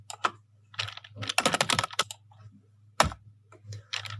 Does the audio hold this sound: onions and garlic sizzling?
no